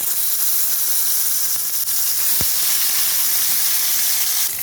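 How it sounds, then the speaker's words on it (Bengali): Puti fish sizzles loudly in hot oil in a wok, a dense continuous frying hiss with a brief thump partway through, close and unbroken. "ভালো করে একটু ভেজে নেবো মাছটা।"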